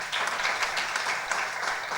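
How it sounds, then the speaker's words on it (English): Steady audience applause fills a hall at a program's closing session, dense and continuous throughout without any talk over it. "you all deserve a big round of applause"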